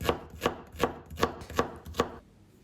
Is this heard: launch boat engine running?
no